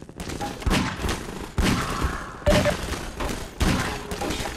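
Several bursts of gunfire crack out in a firefight in Half-Life 2: Lost Coast, arriving in roughly evenly spaced volleys with sharp thumping onsets and echoing tails between them.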